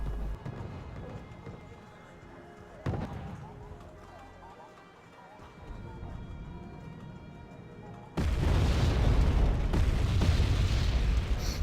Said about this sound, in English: There's T-72s in this tree line here, which is what my Jaguars are coming back in to bomb